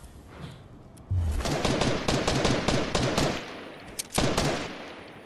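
Rapid video-game gunfire erupts after a brief lull, dense bursts of automatic shots crackling loud and close for several seconds with a short gap before a final volley.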